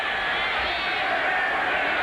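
Stadium crowd at a 1985 NFL football game, the Chicago Bears at the Minnesota Vikings, chanting together as a broad, steady roar that fills the whole stretch at a constant loud level.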